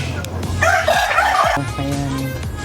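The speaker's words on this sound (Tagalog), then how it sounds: "Ito yung mga makulit na manok namin." Chickens clucking and squawking close by, with a burst of loud crowing-like calls in the middle amid farmyard noise.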